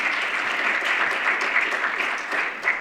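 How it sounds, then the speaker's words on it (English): An audience at an African-American history conference in Nashville applauds for Sharon, a dense, steady round of clapping from many people that stays fairly loud and even across the whole stretch. "I think we need to give her a round of applause"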